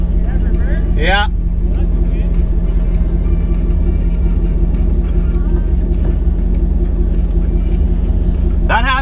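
A rock crawler's engine idles and rumbles loudly in the backcountry while its broken transmission leaves it with only reverse, a low steady drone under people talking nearby.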